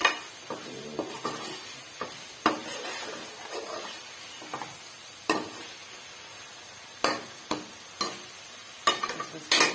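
Palak gosht masala cooks in a kadhai, a steady frying sizzle with repeated sharp scrapes and clinks of a spoon stirring against the pan, close and fairly quiet, no voices.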